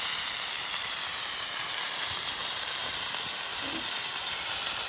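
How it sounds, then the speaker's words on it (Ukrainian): Steady, dense sizzling hiss of potatoes frying in a pan over a campfire in a forest, continuous and fairly loud throughout, with faint crackles underneath. "Гарно шкварчить картопелька"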